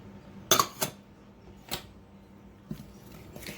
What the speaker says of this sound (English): I'm just going to use a fork to stir this in